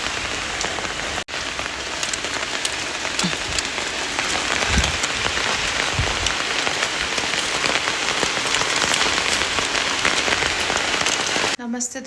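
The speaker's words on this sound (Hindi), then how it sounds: "यहीं पे आ रही है बारिश।" Heavy rain pours steadily in Arunachal, drumming densely on nearby surfaces for the whole stretch, loud and constant, with a brief dropout near the start and a cut at the very end.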